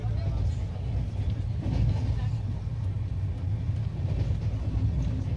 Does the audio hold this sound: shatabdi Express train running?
yes